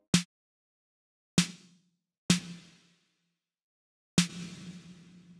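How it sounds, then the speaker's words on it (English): Four sharp snare drum hits spaced apart, the first dry and short, each later one trailing a longer reverb tail, from small to medium to large. "I'm going to play this imaginary snare."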